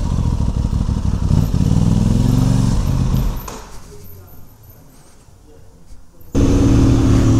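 A motorcycle, a Whole Shot Motorcycles bike, revs loudly up close, its engine note fading away over a few seconds before another loud burst of engine noise returns near the end.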